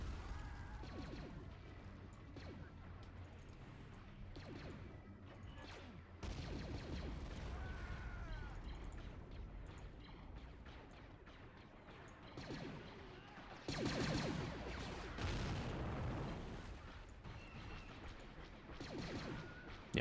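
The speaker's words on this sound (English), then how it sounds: "that bombardment is still going down" Artillery bombardment in Men of War Assault Squad 2, in a Star Wars beach assault scenario: dense rumbling blasts and crashes, with heavy bursts swelling in waves over a constant low battle din, without clear talk.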